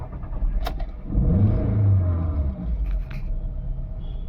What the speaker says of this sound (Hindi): इंजन मिसफायर कर रहा है, आप लोग देख सकते हो।